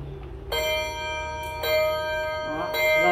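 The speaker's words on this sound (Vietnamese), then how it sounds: "chuông của anh rất là vang" A wind-up clock's chime rings out in three clear, resonant strikes about a second apart. Each tone sustains and overlaps the next over faint background noise.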